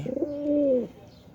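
A female pigeon gives a single soft, drawn-out coo, close by and clear, with a brief rising start and a steady tonal hold before it fades into quiet.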